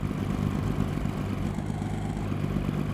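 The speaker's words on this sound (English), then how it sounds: "My truck engine." A truck engine idles in Euro Truck Simulator 2, a steady low mechanical drone holding constant throughout at moderate level, with no talk.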